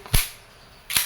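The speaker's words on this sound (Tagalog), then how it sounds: "This is your 2011 Nikapa T-Rex gas blowback airsoft pistol." A WE 2011 Hi-Capa T-Rex gas blowback airsoft pistol fires two sharp, loud cracks close up, about a second apart, with no talking in between.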